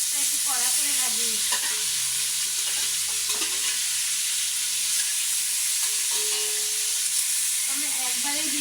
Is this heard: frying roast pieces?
yes